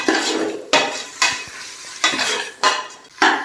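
Chopped coriander and mint leaves being sautéed in a pan while making beef biryani, with about five sharp spoon scrapes and stirs against the vessel over a soft ongoing sizzle, up close and free of talk.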